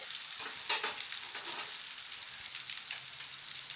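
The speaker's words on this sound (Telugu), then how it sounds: "ఒకసారి అంతా బాగా కలుపుకొని వేయించుకోవాలి" Okra (ladies finger) is stirred and fried in a pan for a coconut okra fry. A close, steady sizzling hiss runs throughout, with brief scraping and stirring clatters near the start and no talking.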